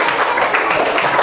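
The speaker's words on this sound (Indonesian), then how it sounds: "beri tepuk tangan untuk kelompok 2" A class in a classroom applauds a student group, producing a dense, loud wash of clapping that lasts only a brief moment.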